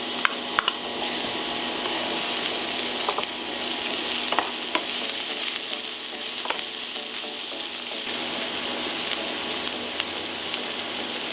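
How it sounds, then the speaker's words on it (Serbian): Onion fries in oil in a pan, giving a continuous close sizzle with occasional clicks of a utensil stirring and scraping, and no speech over it. "Dodajem luk i pržit ću ga dok ne omekša."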